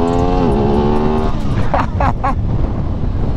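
Aprilia RS660 sport motorcycle engine revving up with a rising whine, then dropping off as shifting blips and mechanical clatter follow, close and loud under wind rush.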